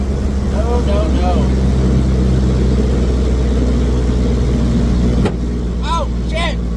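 LS-swapped Monte Carlo car at about 100 mph, a loud steady engine drone with drive-shaft strain, continuous and close, with people talking over it.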